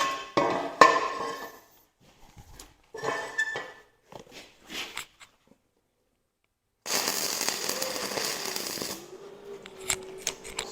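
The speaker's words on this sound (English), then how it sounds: "let me get a couple more tacks on there, and then we'll weld it out" Stick welding lays tack welds on a metal cloak Jeep JK DB3 bracket, sputtering crackling bursts separated by silences, then one longer sustained sizzling arc with a faint tone underneath.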